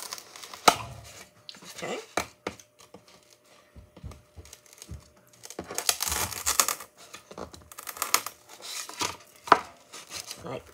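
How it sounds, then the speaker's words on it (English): Cutting out a triangle shape for a homemade Bill Cipher statue, with irregular bursts of snipping, tearing and crinkling close by, broken by pauses, and a brief spoken word. "Let's cut the triangle."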